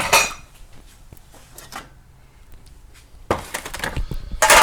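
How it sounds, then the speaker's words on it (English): Banana nut bread batter being scooped into loaf pans, with scattered utensil scrapes and clinks against the pans, sharper clattering bursts at the start and near the end. "we're going to go ahead and get this into our baking dishes"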